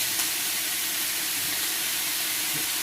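Pork sizzles in a hot stir-fry pan with a dense, continuous hiss, close and steady throughout, with no talking.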